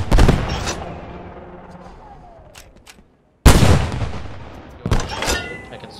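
Anti-tank gun firing in Post Scriptum, two loud booming shots with long decaying rumbles, the second cutting in abruptly after a brief silence and followed by a further blast.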